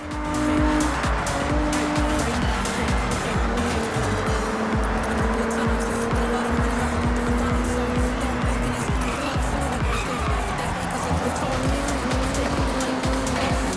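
A Toyota TRD Camry races in Forza Horizon, its engine droning steadily and loud throughout with tire squeal and skidding layered over the continuous motor note.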